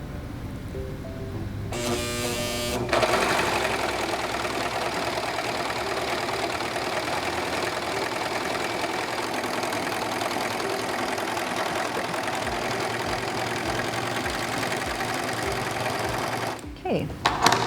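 A Singer 14CG754 serger stitching a 3-thread narrow overlock along a single layer of fabric runs in one loud, steady, rapid whirring hum for about fourteen seconds, with brief clicks at the start and end.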